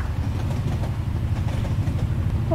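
Train rolling past in the video game Nibble: Pizza Delivery, a steady low rumble with faint rhythmic rail clatter, continuous and fairly close, with no voices.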